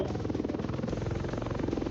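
Helicopter in the Roblox game War Tycoon, a steady rotor buzz with a rapid pulsing chop running continuously and fairly loud, no talk over it.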